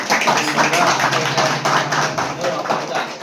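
A crowd at a devotional bhajan group event claps loudly and steadily for the donors, a dense, sustained round of applause with speech mixed in.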